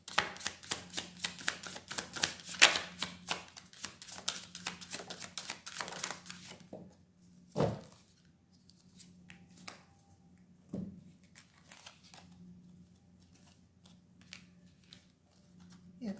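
Tarot cards shuffled in a quick, dense run of crisp riffling taps for the first six seconds, then a few scattered handling sounds over a low steady hum.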